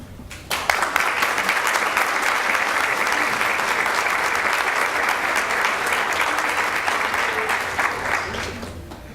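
Loud sustained applause at a school board meeting for honored students, their parents and advisors, starting abruptly and holding as a dense continuous roar of clapping before easing slightly at the end.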